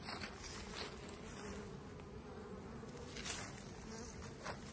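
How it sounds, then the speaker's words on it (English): A steady, dense buzzing of many honeybees swarming close by at hive entrances in October in South Alabama, a continuous droning hum with no voices. "All these hives have bees going in and out of them."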